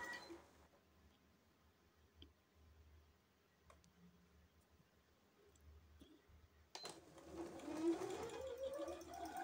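A sewing machine stitches a straight seam on a four-piece jumpsuit, faint scattered clicks and quiet handling giving way near the end to a louder, rapid run of stitching.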